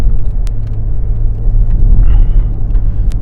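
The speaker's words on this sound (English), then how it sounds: "I'll see what this thing does 0 to 60" A Dodge Charger on drag wheels makes a loud, steady low engine rumble as it accelerates from 0 to 60, heard close up from inside, with a couple of sharp ticks cutting through.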